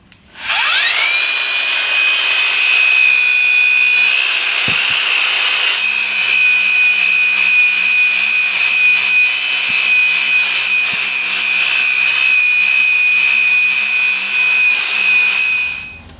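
A large puddingstone rock is ground with 100 grit on a powered lapidary machine, a loud, sustained high whine with a steady grinding rasp that starts abruptly and holds for about fifteen seconds.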